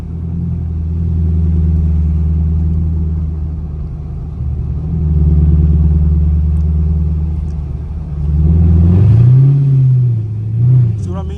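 A catless Chevrolet Camaro SS V8 driving through snow, a loud deep exhaust rumble that rises and falls with revs and throttle blips, with people talking over it inside the car.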